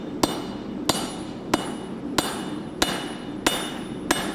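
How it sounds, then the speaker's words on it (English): A hammer strikes a knife blade being forged on an anvil, seven evenly spaced ringing blows about two-thirds of a second apart, close and clear with a metallic ping, no talk. "Keep forging that down, or you can come on the side, on the edge of the anvil, and hit the top down."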